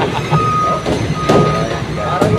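A Ford truck at a demolition site reverses with a steady electronic beep. The tone holds level over a rumbling engine and clatter, with faint voices in the background.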